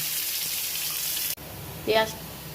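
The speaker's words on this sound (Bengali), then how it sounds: "রসুনটা এবার নাড়াচাড়া করে এবারে এই পেঁয়াজ কুচিগুলো দিয়ে দিচ্ছি" Garlic and chopped onions frying in hot oil give a steady broadband sizzle that cuts off abruptly midway, followed by a quieter stretch and a brief voice.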